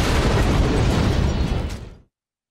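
A bomb exploding in the video game Keep Talking and Nobody Explodes, heard as a loud, dense, rumbling blast that roars steadily for two seconds, then cuts off abruptly into silence.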